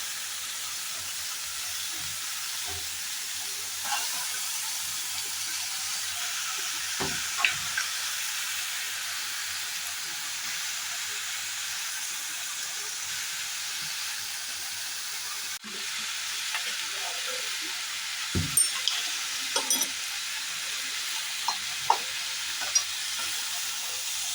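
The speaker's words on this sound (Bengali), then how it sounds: "সবজিগুলো সুন্দরভাবে ভাজা হয়ে গেছে" A steady low sizzle of Malabar spinach and vegetables frying runs throughout, with occasional soft scrapes and knocks of stirring in the pan.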